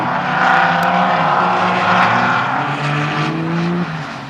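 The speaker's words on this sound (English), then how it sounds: "That car's pretty quick." A car engine roars steadily as it drives past, loud at first and then easing off slightly toward the end.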